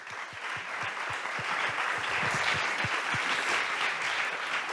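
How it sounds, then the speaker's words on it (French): Audience applause at a startup award ceremony, a moderately distant, steady wash of many hands clapping with a few sharper individual claps standing out, no voices over it. "On peut l'applaudir quand même."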